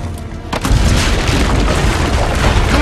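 Cannon fire from the ramparts in Assassin's Creed Brotherhood, a heavy boom breaking in after a brief quieter lead-in and rolling into a dense, sustained roar of blasts.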